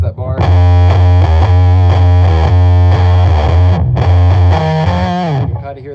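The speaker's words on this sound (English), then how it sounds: "You can kind of hear that distinct little like palm mute or stoppage there right before they hit that" Heavily distorted electric guitar riff, loud and up front, with chugging palm-muted notes, a brief stop just before the four-second mark, then the riff resumes and rings out.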